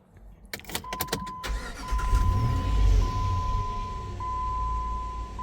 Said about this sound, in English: let's go ahead and turn the car back on